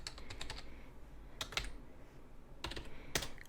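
Keys tapped on a computer keyboard in quiet, irregular bursts of quick clicks, close but soft, with short pauses between clusters.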